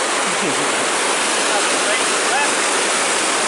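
Water rushes in a constant, dense broadband roar, like a fast-flowing creek close by, with no pauses.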